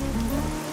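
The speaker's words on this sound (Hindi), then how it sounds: "ये बारिश है कि रुकती ही नहीं है" Heavy rain falls on a night scene in a Hindi film, a dense, steady wash of close, loud rainfall over a brief moment with no voices.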